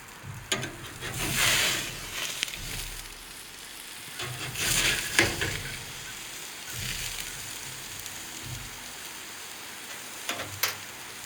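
Venison deer burger patties frying in a pan, a steady sizzle with swelling bursts of crackle and faint stirring noise, close and heard without speech.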